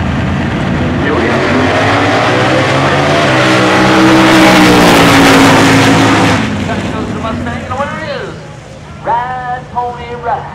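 A Ford Mustang and a Chevrolet race car roar past at high speed on a drag strip, a loud sustained engine howl that swells and then cuts off, with a commentator talking over the end.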